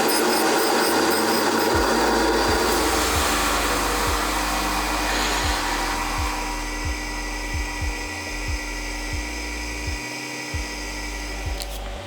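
Surface grinder tapering the tang of a knife made from a shotgun, a loud steady whine and hiss with a rhythmic low thump as the table passes back and forth.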